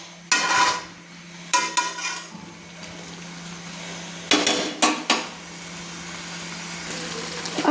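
A spatula stirs chicken pieces through spices in a pan for a spicy chicken dish. A few sharp metallic scrapes and clanks come in short bursts over a faint steady hum, with quiet gaps between them.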